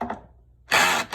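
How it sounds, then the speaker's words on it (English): A power drill runs in a short, loud, steady burst while tightening the cylinder bolts on an air compressor. It cuts in after a brief pause and then stops abruptly. "This works easy with the drill."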